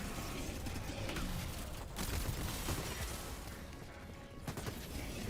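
Dense, chaotic battle gunfire from Helldivers 2 under heavy fire, a continuous clatter of shots and crashes heard fairly faintly throughout.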